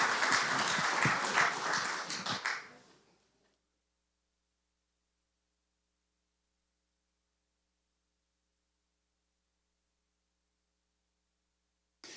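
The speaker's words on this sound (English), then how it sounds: "Thanks for clapping along." An audience applauds after a song, a few seconds of dense clapping that fades out into long silence, with a brief burst of sound at the very end.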